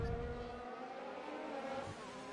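A Ferrari race car in a Japan round of an online racing game, its engine a steady, sustained whine with shifting pitch and a small rev change near the end, fairly faint throughout.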